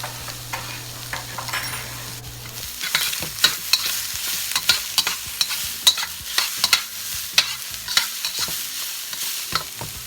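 Carrots and ginger frying in a hot pan for fried rice are stirred with repeated scraping strokes over a steady sizzle, close and fairly loud, with no voices.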